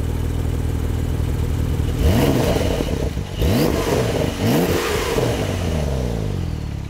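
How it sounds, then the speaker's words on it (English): A Porsche 911 Turbo S with the optional sport exhaust, twin-turbo 3.8 liter flat six, idles and then blips the throttle in three sharp revs, each rising and falling quickly, loud and close, then settles back to a rumbling idle. "And it gets better with the optional sport exhaust."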